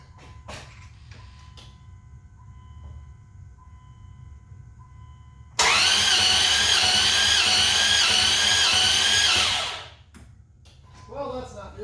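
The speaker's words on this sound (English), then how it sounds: "Let's go ahead and try and crank it over." A truck engine with the throttle held wide open cranks over on the starter for about four seconds, a loud fast rhythmic whirring that begins abruptly mid-clip and fades out, with quieter handling noises before and after.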